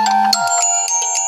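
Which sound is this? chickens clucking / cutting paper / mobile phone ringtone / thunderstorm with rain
mobile phone ringtone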